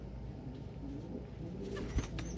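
Pigeons from a backyard flock give soft, low cooing over a steady ambient hum, with faint chirps and a brief thump near the end.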